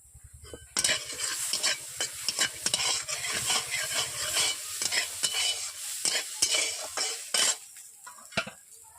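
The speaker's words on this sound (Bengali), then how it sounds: "এরপর ভেজে নিচ্ছি হালকা করে মটরশুঁটি।" Green peas fry in a karahi, sizzling steadily while a spatula scrapes and knocks against the pan in rapid, repeated strokes, close and loud with no talking.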